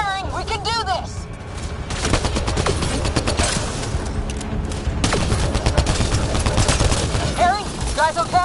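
Heavy gunfire in Mass Effect: Andromeda, dense sustained bursts and volleys of weapon fire with booms, loud and continuous through most of the stretch, mixed with voices shouting during the firefight.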